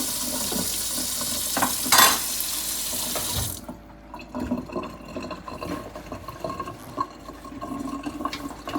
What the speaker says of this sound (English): Drain off the salt water, all of it, as much as we can get off of it.